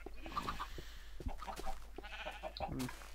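Minecraft cows moo and low in short bursts from the game, fairly faint and mixed with other game noises, with a person speaking quietly at points.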